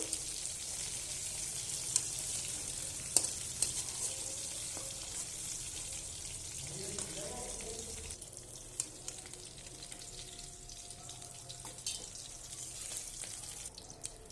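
Fish sizzling in hot oil in a home kitchen, a steady soft crackle and hiss running throughout with faint clinks and stirring noises, fairly quiet and without any talking.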